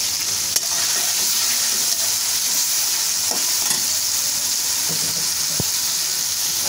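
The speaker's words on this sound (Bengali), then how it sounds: "এই পর্যায়ে আমি কিছু কাঁচামরিচ কুচি দিয়ে দিচ্ছি এখানে" Chopped green chilies and cooked chicken frying together in a pan for a restaurant-style Chinese vegetable dish, a steady loud sizzle and hiss with occasional stirring clinks and scrapes throughout, no voices.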